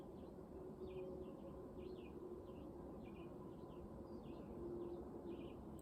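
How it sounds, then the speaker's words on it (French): Faint birdsong, with a series of short repeated chirps and trills, comes from a distance over a steady low outdoor rumble. "Chant des oiseaux."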